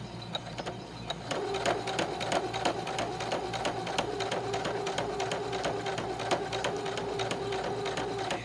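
Sewing machine stitching through thick rug strips, a steady rapid rhythmic clatter of needle strokes that starts after a second and continues evenly, moderately close.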